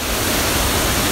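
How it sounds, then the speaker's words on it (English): A Philippine waterfall on Mindanao gives a steady, loud broadband rush of falling water that fills the whole moment evenly, with no voices over it. "I'm standing currently near a waterfall."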